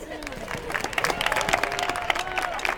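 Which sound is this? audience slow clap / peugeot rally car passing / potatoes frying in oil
audience slow clap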